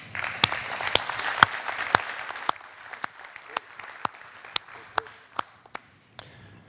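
At a technology innovation conference, the audience applauds the sponsors. Moderate clapping with distinct sharp claps stands out, and it dwindles to scattered individual claps by the close.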